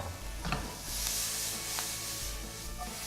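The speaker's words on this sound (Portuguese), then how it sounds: "Agora eu vou entrar com a cebola." Onion goes into a pan of frying spices for an Indian-style curry base, giving a steady sizzle with brief stirring scrapes, close and fairly loud, with no voices.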